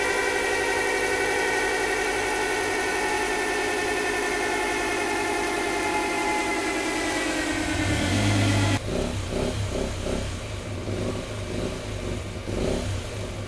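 Ace of Spades 125 motorcycle engine on a dyno test bench, held high with a steady rising whine until it hits the rev limiter, then drops to a lumpy, pulsing idle, close and loud.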